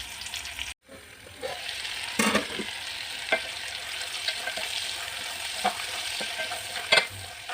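Tomatoes and meat stirred in a cooking pan for spaghetti sauce, a soft steady sizzle with scraping spoon strokes and occasional clinks, fairly quiet and close.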